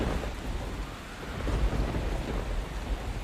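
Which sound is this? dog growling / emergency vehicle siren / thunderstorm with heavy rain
thunderstorm with heavy rain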